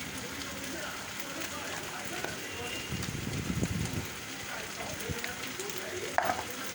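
Spiced onion masala with cumin, salt and a little sugar sautéing in a pan, a low crackling sizzle with stirring scrapes, near and moderate, partly under a person talking.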